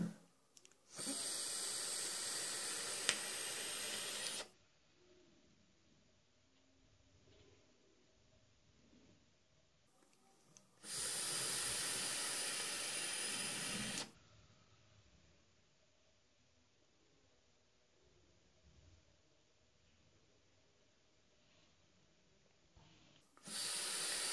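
Vapor is pulled and exhaled from an e-cigarette running DOLUNAY Smoke Hunter liquid with a 3 mg nicotine e-liquid. Three long, loud breathy hisses, each several seconds, are separated by quiet gaps.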